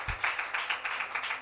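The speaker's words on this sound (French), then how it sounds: "Applaudissez pour elle." Applause for Miss Bamako, first runner-up at a Malian pageant-style school promotion event: a brief, fairly faint patter of rhythmic hand clapping from a small audience.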